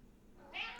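A cat gives a single short, close meow, faint against a quiet indoor background.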